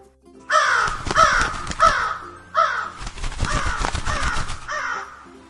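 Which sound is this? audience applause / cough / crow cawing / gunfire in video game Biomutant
crow cawing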